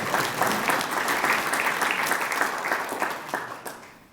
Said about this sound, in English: It's a good applause. Everyone's happy.